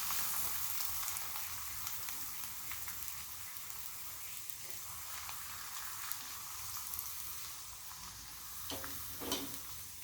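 Sticky rice papad fries in hot oil with a steady, fairly faint crackling sizzle throughout, with a few slightly louder bursts near the end.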